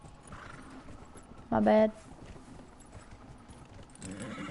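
A horse in the video game Dragon Age Inquisition gives a short, loud whinny amid quiet in-game ambience, with hooves faintly clopping afterward and someone briefly speaking.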